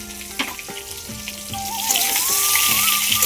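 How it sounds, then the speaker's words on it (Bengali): Potatoes frying in a generous amount of oil in a pan for a home-cooked egg curry, giving a steady close sizzle that swells louder and denser partway through, with light stirring and a faint tonal background. "আলুটা প্রায় ভাজা হবে হবে ভাব"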